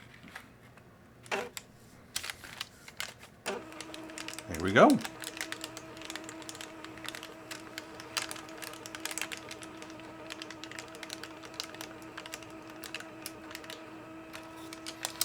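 A Doxie Go SE portable scanner feeds a paper receipt through with a steady low motor hum and faint clicking, running for several seconds under brief talk.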